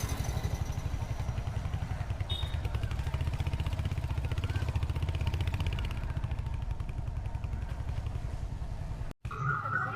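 A motorcycle engine hums steadily at close range throughout as the bike is ridden, with wind rumble and a brief dropout near the end; no talking is heard.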